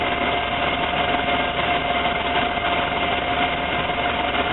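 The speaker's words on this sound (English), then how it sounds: "This is the longest it's idled for a long time." A van engine idles in a steady, even drone with a low rumble and constant vibration throughout, close to the microphone, with no voices.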